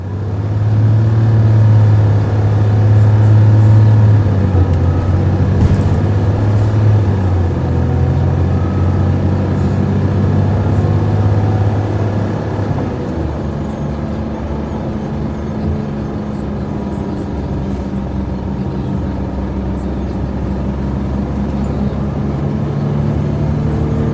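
A Pace NABI LFW transit bus with an Allison transmission runs with a steady, loud low-pitched engine drone, heavier for the first dozen seconds and then settling into a slightly quieter, even hum with no voices.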